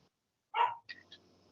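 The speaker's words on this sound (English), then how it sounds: "And I apologize about my dog that all of a sudden wants to get on the ratings talk." A dog gives a single sharp bark indoors, fairly close, followed by a couple of softer yips and whimpers against a quiet background.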